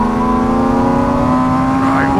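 A car engine revving high and steady from inside the cabin, a strong sustained drone that climbs slightly toward the end.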